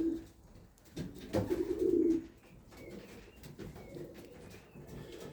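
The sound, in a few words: young racing pigeons cooing and moving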